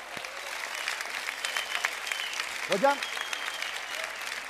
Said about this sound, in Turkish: Alkışlar da arkadaşlar